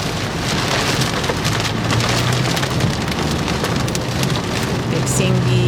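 Heavy, steady rain drums on a vehicle during a storm chase near Kansas City, Missouri. The dense patter is close and loud and holds constant throughout, with a low rumble underneath.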